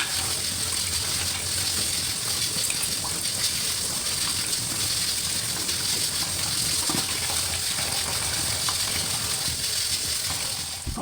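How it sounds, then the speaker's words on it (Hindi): Tap water gushing steadily while dishes are washed in a home kitchen, a continuous rushing spray with faint clinks and mechanical rattles underneath. "और देखिए साथ साथ ना मैंने सारे बर्तन भी धो लिए।"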